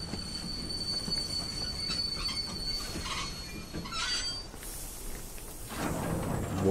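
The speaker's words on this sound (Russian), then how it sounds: "Вот мы приехали на поезде в элитном вагоне" Train pulling into a station in the video game The Technomancer with a passenger carriage, a continuous rumbling ride with squealing wheels and brakes, steady and close, with a hiss near the end.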